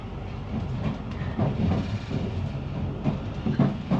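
A British train rumbles along steadily with rhythmic rail clatter and low droning, heard from the carriage vestibule, fairly loud with periodic thumps.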